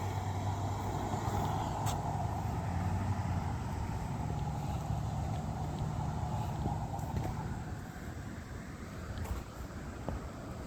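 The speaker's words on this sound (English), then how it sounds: "There's that same truck." A truck rumbles past on the street in a continuous low, heavy roar that holds steady for several seconds before easing off toward the end.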